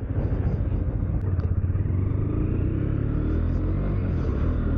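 KTM 390 motorcycle being ridden on UK roads, its engine a close, steady throbbing rumble with a slight pulsing rhythm, mixed with road and wind noise.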